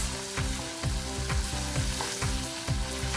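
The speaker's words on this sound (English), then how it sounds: "Now I am adding the masala powders. Just give a mix." Masala powders sizzling in hot oil for a salmon fish curry, a loud continuous frying hiss with rhythmic spoon strokes repeating roughly every half second, close up, no voices.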